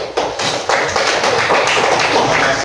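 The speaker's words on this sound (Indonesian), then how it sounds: "Aplaus dulu." Students in a classroom clap steadily for about two and a half seconds, a loud, dense burst of applause that starts and stops abruptly, with no one speaking.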